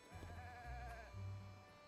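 A goat in Zelda: Tears of the Kingdom gives a wavering, nasal bleat, then a second shorter bleat, heard fairly close over a low steady background hum.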